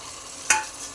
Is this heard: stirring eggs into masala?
yes